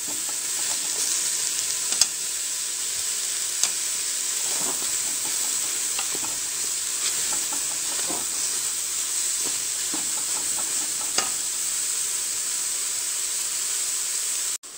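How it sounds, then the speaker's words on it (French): Mushrooms sautéing in a Cookeo electric pressure cooker pot, a steady loud sizzle and hiss of frying throughout with occasional faint stirring clicks. "Donc je fais revenir mes champignons dans la même cuve."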